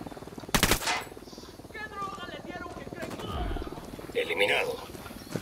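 Gunfire in the video game Ghost Recon Wildlands, a few sharp loud shots and short bursts amid game noise and engine-like rumble, with voices talking underneath.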